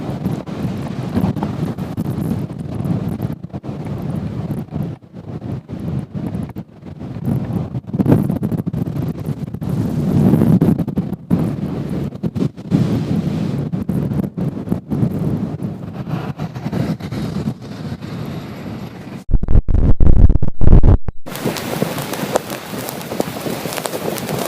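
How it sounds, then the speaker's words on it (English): Blizzard winds of at least 50 miles per hour in Minnesota buffet the microphone in loud, continuous roaring gusts that surge and cut out, with no voices. "Right now, I'm in a blizzard. There's at least 50-mile-an-hour winds."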